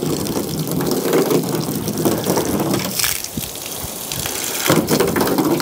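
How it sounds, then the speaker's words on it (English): Water spraying steadily over a car's ceramic-coated paint during a rinse, a continuous loud gushing hiss that briefly drops off before resuming. "Rinse again."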